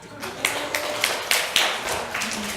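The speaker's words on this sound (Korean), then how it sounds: "박수 부탁드립니다." Applause from a church congregation at a Sunday service, a steady patter of many hands with a few sharper accents, moderately loud and continuous throughout.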